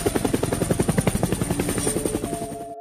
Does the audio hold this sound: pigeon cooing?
no